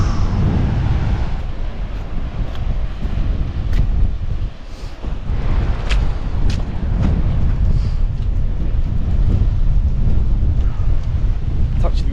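Strong coastal wind at Durdle Door buffets the microphone in heavy, rumbling low gusts with brief lulls, loud and close throughout.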